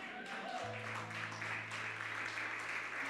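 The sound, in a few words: church congregation applause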